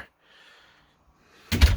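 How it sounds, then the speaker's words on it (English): A porch door on an A-frame cabin swings shut with a single loud, close thud, preceded by a faint, quiet shuffle. "I'll shut the door here."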